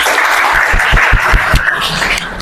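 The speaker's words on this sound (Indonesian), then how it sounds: "Oke, beri tepuk tangan." Classroom applause from students at the end of an informatics lesson, a steady wash of clapping with a few louder claps standing out, sustained through the whole stretch.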